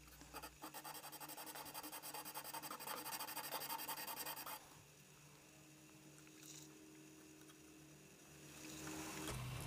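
220-grit sandpaper is rubbed along a radiused guitar fretboard during a stainless steel fret job, a quiet, close, continuous rasping scrape that stops about halfway, leaving soft room noise until a brief return at the end.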